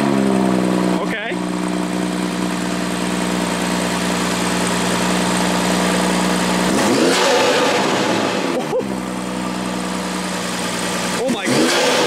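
A BMW 340i M Sport fitted with an MST intake idles loud and close, then revs hard with a rising swoosh, settles, and revs again, while people talk over the engine.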